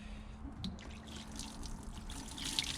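A watering can pours water gently over a bicycle chain to rinse off degreaser, making a soft, continuous trickle and splash that stays fairly quiet throughout.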